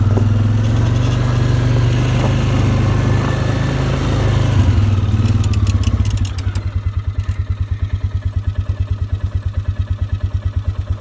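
A Polaris ATV fitted with a snow plow runs loud and close in cold weather, a rough engine drone with clatter that settles into a lumpy, rhythmic idle pulse.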